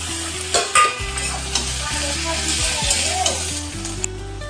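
Taro stolons tossed into a pan of frying onions and stirred, a loud continuous sizzle with scraping stirring strokes and a couple of sharp clatters early on.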